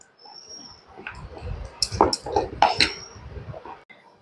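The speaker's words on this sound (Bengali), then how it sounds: "এটা দিয়ে ডালটাকে আমি এইভাবে একটু ফেটিয়ে নেব" Lentil paste for dal bora is beaten in a bowl, with soft scraping strokes and a few sharp metallic clinks of the utensil against the bowl, close up and irregular.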